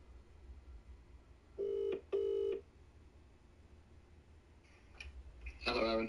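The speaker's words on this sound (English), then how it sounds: "Let's call Camel Toe" Phone placing a call: two distinct dialing or ring tones in a row, followed by further faint electronic tones and a burst at the end, heard fairly quietly over a low background.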